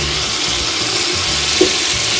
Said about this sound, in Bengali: এখন এই সেম তেলের মধ্যেই ফুলকপিটাকে ভেজে নেব নুন হলুদ দিয়ে